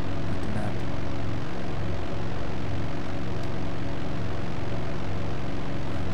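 Steady, loud drone of a propeller plane in flight in the flight-simulation game IL-2 Sturmovik 1946, a continuous engine roar with no change in pitch throughout.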